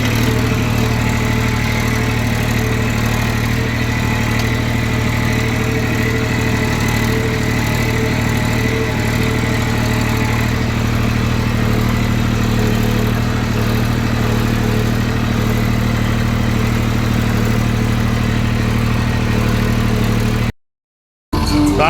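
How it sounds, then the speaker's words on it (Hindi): A Solis 4x4 6524 tractor engine runs steadily at night, a loud continuous low mechanical drone with no speech, cutting out abruptly near the end. "ट्रैक्टर अपना वही है, सोलिस का 4x4 6524"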